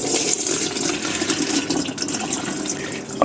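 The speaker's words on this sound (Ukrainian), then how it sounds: "і виливаю 10 літрів водички." About ten litres of water pour out in a steady, loud rushing stream that runs unbroken for several seconds, close by.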